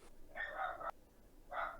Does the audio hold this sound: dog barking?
yes